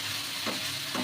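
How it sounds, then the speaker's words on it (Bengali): Ginger garlic paste thinned with a little water sizzles steadily in a hot pan. Two quick scraping stirs of a spatula rise above the constant frying hiss. "এবার সব সমেত এবার এটাকে কষাবো আমি।"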